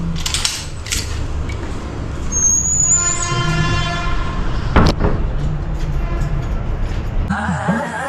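A heavy rumbling vehicle passes close by, with a sustained horn blast in the middle and a sharp clank, loud and nearby.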